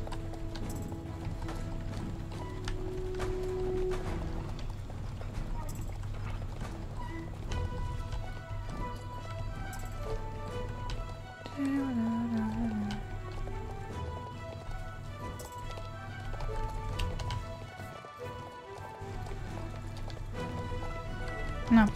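Rhythmic horse hoof clip-clop in the video game Star Stable Online, steady trotting hoofbeats over game music, running nearly throughout at moderate loudness.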